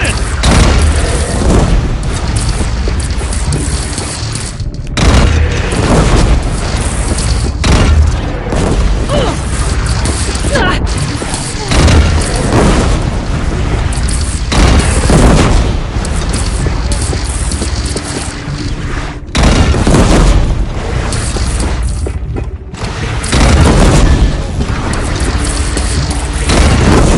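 Heavy cannon fire in the video game Horizon Zero Dawn, a loud, dense battle soundscape of booms and crashes that continues throughout, mixed with voices.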